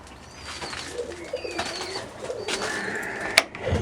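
Russian Statnyje pigeons in a pigeon loft give soft, low cooing calls under steady ambient noise, with a few faint bird chirps and rustles nearby.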